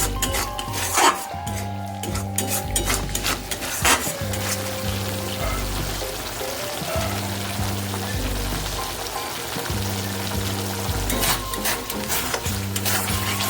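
Ginger and spices sizzle while being stirred in a pan for a paneer capsicum dish, with a constant frying hiss, repeated scraping strokes, and a few sharp clatters, fairly close and without voices.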